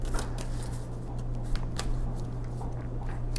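Tarot cards shuffled and pulled from the deck make a continuous close, crisp riffling and rustling over a faint steady hum, with no talking.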